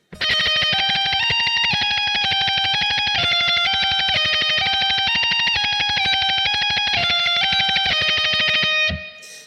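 Fast tremolo picking on an electric guitar, with a rapid, even stream of distorted notes stepping through a shifting melody, loud and continuous, then stopping abruptly near the end without any talk.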